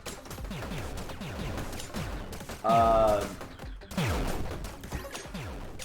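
Repeated explosions and bursts of gunfire in the video game Forager crackle continuously, with a loud sustained tonal blast partway through, all fairly close and busy.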